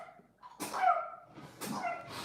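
A faint sneeze sounds during a live chile-cooking session with celery stalks, followed by a second soft burst, both fairly distant and quiet.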